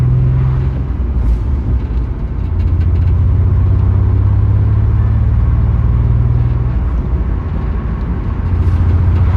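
A BMW E46 330Ci with a misfiring engine drives along, its loud, low engine rumble steady throughout, with the drone rising and falling slightly as the car moves.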